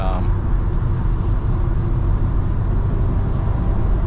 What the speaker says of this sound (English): noises from the trucks next to me